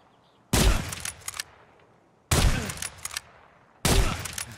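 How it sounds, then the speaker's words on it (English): A TOZ 20 gauge shotgun loaded with buckshot fires three loud, separate blasts in Escape From Tarkov. Each has a sharp attack and a short decaying tail, spaced roughly 1.5 seconds apart. "Onto the Taz, which shoots a 20 gauge."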